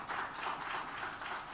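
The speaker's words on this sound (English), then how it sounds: "another warm round of applause." A warm round of applause from the audience at an energy summit in India, steady dense clapping for a government minister, moderately loud and continuous throughout.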